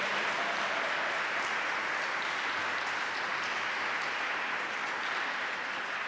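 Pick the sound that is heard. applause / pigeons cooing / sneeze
applause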